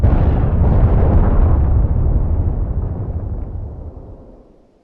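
An artillery barrage explodes in the ArmA 3 video game, a loud heavy boom rolling into a long rumbling tail that fades away over several seconds, with no talking.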